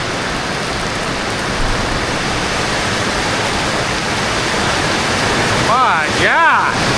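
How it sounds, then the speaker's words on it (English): Heavy downpour drumming down in a dense, steady broadband roar that fills the whole stretch, with a voice breaking in briefly near the end. "It's absolutely downpouring."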